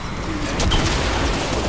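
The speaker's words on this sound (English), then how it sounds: "Grenades." Grenade explosions in Fortnite: Save the World, a loud broadband burst rising over a busy combat roar, brief and close, with a sharp crack partway through.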